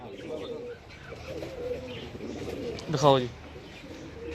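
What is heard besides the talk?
pigeon cooing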